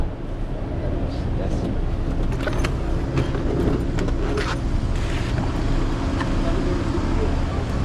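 Steady traffic rumble at Larkin Sentral, the largest bus terminal in Johor Bahru, with idling engines and passing vehicles forming a constant, fairly loud wash, and faint voices mixed in.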